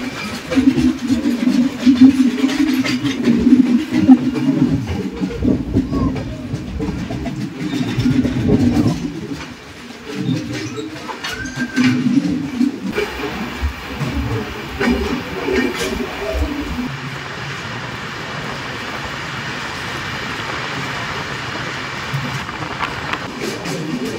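A long-distance passenger train travelling from Coimbatore to Silchar runs through a long tunnel, a continuous heavy rumble and clatter of wheels and carriages that stays loud throughout, easing slightly partway and then carrying on.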